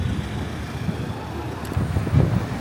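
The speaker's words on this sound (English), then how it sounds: "Why is it suddenly so windy?" Gusty wind on a Tokyo street rushing and buffeting the microphone, building louder toward the end, with faint traffic rumble underneath.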